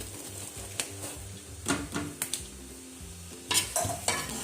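Boiled rice being stirred into jaggery syrup with nuts in a cooking pot: soft wet scraping and stirring strokes with utensil clinks, some quick and clustered, heard up close and fairly quiet.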